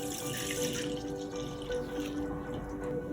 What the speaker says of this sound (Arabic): لتر كامل ديال الحليب